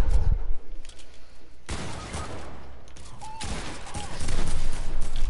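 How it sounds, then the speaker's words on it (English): Video game gunfire aimed at player-built structures: a dense fusillade of rapid shots, loud and close, with bursts separated by brief pauses and steady game noise underneath. "I'm just going to shoot at the builds"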